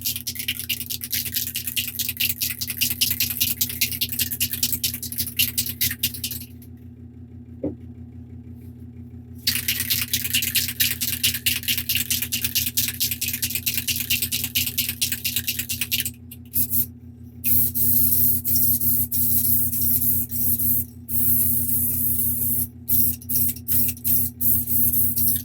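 A can of spray paint hisses in long, steady bursts, broken by short pauses and a few rapid stop-start spurts toward the end, close and fairly loud with no talking.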